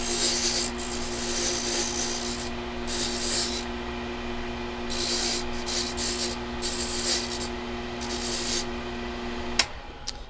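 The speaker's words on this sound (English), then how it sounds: "So I'm gonna just deburr it on the blitz real quick here." A freshly cut Tibbe key is deburred on a spinning wheel beside a Condor Dolphin key machine: a steady motor hum with repeated scratchy grinding bursts as the key is pressed to it, ending in a small click.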